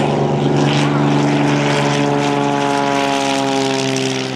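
A propeller aerobatic airplane drones overhead at an airshow. Its engine gives a loud, sustained, harmonic buzz that fills the whole moment.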